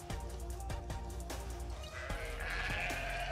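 A ram in the video game ARK bleats repeatedly, a string of short, loud, nasal cries over a constant background hum, with no talk.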